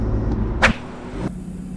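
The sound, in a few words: car aftermarket intake noise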